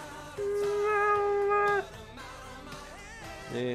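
A cat meows in GTA: Vice City with one long, drawn-out, tonal meow followed by quieter, shorter mewing sounds.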